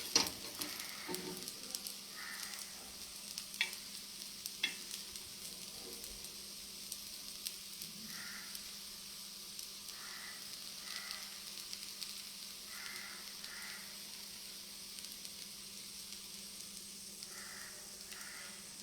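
Food fries in a pan over a medium flame, giving a steady sizzle with a continuous hiss and occasional soft stirring clicks and scrapes, fairly close and without any voices.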